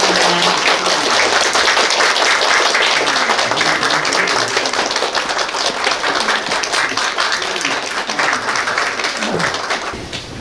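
Audience applause at an education office event in Chilgok, welcoming the Gyeongsangbuk-do education superintendent as he enters; sustained, dense clapping fills the room at steady loudness for about ten seconds, easing slightly near the end.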